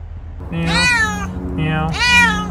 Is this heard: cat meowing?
yes